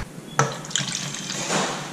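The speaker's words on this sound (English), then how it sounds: "You're going to fill it with 2 cups of milk." Milk poured from a container into an empty pan, a short liquid splash and gurgle that swells and then settles into a steady stream, close and fairly loud, with no voices.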